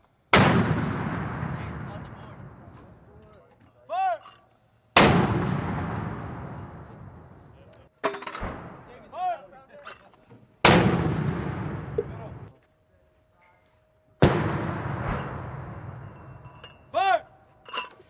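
A 120mm mortar fires live rounds: five heavy, booming blasts that each roll away in a long decaying rumble. Shouted commands come between the shots.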